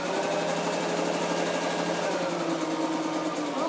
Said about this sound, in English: So I have my sewing machine up here.